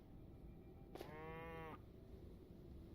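An undead cow in the Hytale video game lets out one short, clear moo, rising out of steady faint background ambience and ending after under a second.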